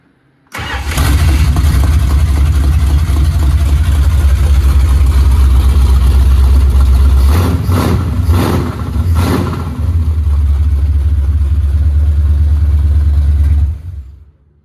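A 1970 Dodge Challenger V8 fires up on open headers, bursting into a loud, rough, deep idle that runs steadily, with a few sharp revs in the middle before settling and then cutting off.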